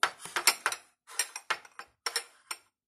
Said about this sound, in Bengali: ওই সামনের বাটিটা নিয়ে এসে ওখানে আরেকটা বাটি সেট করে দিচ্ছি